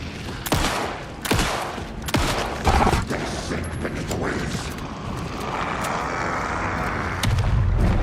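Gunfire in the horror video game Alan Wake 2, several loud, sharp close shots spaced about a second apart, then a rumbling, noisy stretch with another shot near the end.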